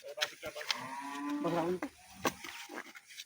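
A dairy cow lets out a long, low moo nearby, with some scuffling and brief background noises around it.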